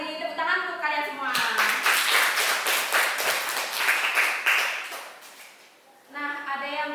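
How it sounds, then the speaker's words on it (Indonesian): Students in a classroom clap together in a burst of several seconds during a lesson on temperature and heat. A voice speaks before the clapping and again after it fades. "Beri tepuk tangan untuk kalian semua"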